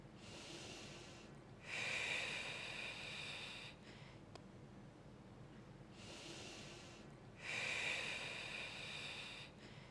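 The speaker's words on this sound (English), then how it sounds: "Inhale through the mouth. Exhale through the nose. Keep going with the same breath pattern." Two slow, slightly raspy mouth inhales each followed by a softer nasal exhale, close and quiet in a calm meditation setting, repeating in an even rhythm.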